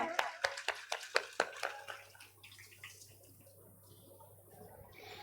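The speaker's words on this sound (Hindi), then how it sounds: "एक बार इनके लिए जोरदार तालियां" An audience at a religious storytelling gathering claps in a burst of about eight sharp, loud hand claps that quickly fade into a quiet hall murmur.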